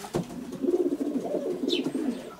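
Pigeons in a racing loft coo steadily in a low, throaty rolling murmur, close and continuous, with a brief higher chirp partway through and no talking.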